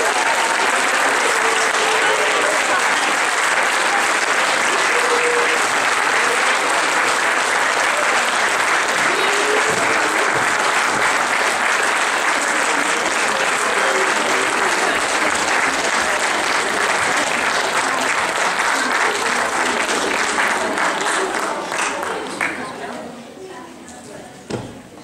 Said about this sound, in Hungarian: egy nagy tapsot a díjazottaknak